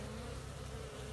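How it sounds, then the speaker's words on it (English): Honey bees fly around their colonies during orientation flights, making a steady, soft buzzing drone that holds evenly throughout with no voices. "all the rest of my colonies are now doing orientation flights"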